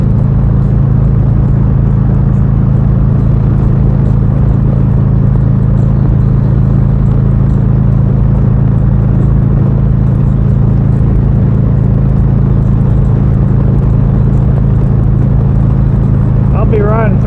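Motorcycle cruising on a highway near Council Bluffs, Iowa, on a long ride from Tennessee to Sturgis, South Dakota: a steady, loud engine drone with heavy wind rush throughout, and a rider's voice partly under the noise.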